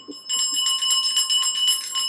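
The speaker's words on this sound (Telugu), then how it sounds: "ఘంటానాదం చేయండి" A ritual puja bell rings during a Dussehra worship, rapid and continuous metallic ringing with bright sustained tones, close and fairly loud, starting after a brief quiet moment.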